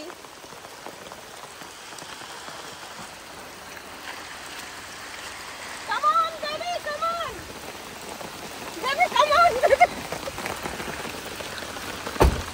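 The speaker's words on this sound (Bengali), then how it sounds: "এই বৃষ্টিতে ভিজে ভিজে যাচ্ছি সাগরে চান করতে" Steady rain falls on surfaces outdoors near the sea, a continuous close patter, while people call out and talk over it in short bursts.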